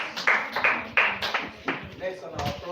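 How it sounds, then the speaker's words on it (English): Scattered claps from a small audience at a school holiday lesson and prize-giving day, a handful of sharp separate hits spaced unevenly while people talk around them. "Give me my round of applause."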